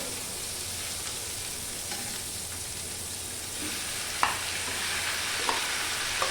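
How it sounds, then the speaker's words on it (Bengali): Onion and snake gourd sizzling in a pan on a gas stove, a steady soft frying hiss with occasional spatula scrapes and taps as the pieces are stirred, no voices. "পেঁয়াজটা দিয়ে একটু নেড়েই আমি চিচিঙ্গাটা দিয়ে দেবো।"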